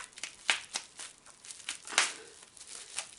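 Scissors snip and crinkle through tape and bubble wrap, a series of short, close crackling cuts in an otherwise quiet room.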